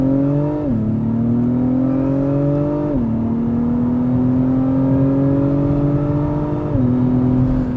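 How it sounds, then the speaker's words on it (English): An Acura TLX Type S in sport mode pulls hard from a stop, its engine note climbing steadily through three quick upshifts with brief dips between gears, loud and continuous throughout. "We'll see how acceleration is from a stop."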